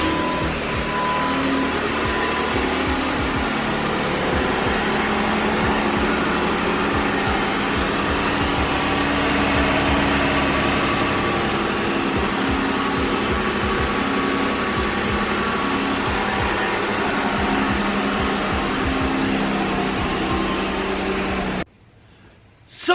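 A steady, droning 2012 Jeep Wrangler Unlimited engine runs at idle after start-up for a long stretch, a constant mechanical hum with no talking, cutting out abruptly near the end.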